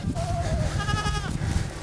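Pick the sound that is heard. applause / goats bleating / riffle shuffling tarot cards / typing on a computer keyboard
goats bleating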